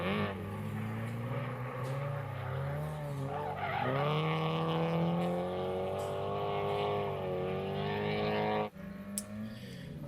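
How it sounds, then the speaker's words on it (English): Drift cars on a course at Mineral Wells slide and spin, a long loud tire squeal with a strained, wavering engine note that cuts off abruptly near the end, leaving quieter background noise. "Sar spins, Sean drives past him"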